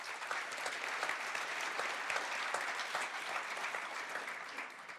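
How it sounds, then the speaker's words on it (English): An audience applauding panel speakers at an annual conference, a full, steady round of many hands clapping, even and sustained, with a slight taper at the end and no talk over it. "please give my distinguished speakers a warm round of applause"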